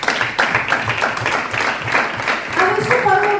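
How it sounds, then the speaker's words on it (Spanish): Church congregation clapping at a Mother's Day service, loud irregular claps with distinct individual hits, overlapped by talk toward the end. "Dale un fuerte aplauso al Señor."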